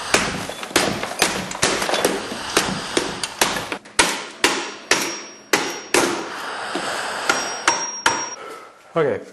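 Hammer blows hitting a metal bucket, part of a homemade mini metal foundry, in a fast irregular series of loud, sharp strikes with clanging ring, some grouped in quick bursts, close and alone.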